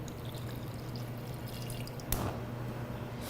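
Water poured into a pot holding sugar, cloves, cinnamon, ginger and orange peel, a soft running trickle with light drips and one brief louder splash near the end.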